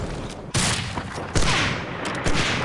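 Rapid bursts of gunfire from Medal of Honor: Allied Assault in a competitive sniper-league match, loud, dense volleys of shots rolling over one another with booming reports and no talking.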